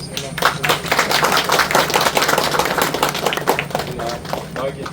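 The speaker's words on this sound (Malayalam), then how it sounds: "നല്ല കയ്യടി അവരുടെ ആണല്ലോ." An audience at a Malayalam film event applauding, a dense continuous burst of many hands clapping, loud and close, with voices in the crowd mixed in.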